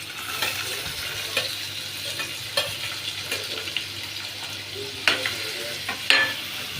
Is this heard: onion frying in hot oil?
yes